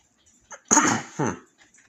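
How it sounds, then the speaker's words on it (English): Two quick, harsh coughs close to the microphone, the first longer than the second, then quiet. "Sorry, I needed to cough"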